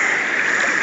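Mountain stream water flowing steadily around someone floating down a jungle river in Puerto Rico, a continuous close rushing wash with no pauses.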